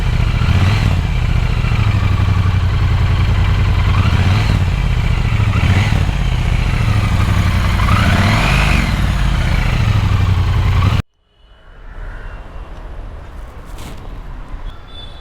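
A 1200cc motorcycle exhaust is revved repeatedly up close, rising and falling blips over a deep idle, then cuts off abruptly to quieter background.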